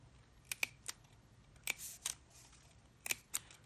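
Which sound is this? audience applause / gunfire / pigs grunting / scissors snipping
scissors snipping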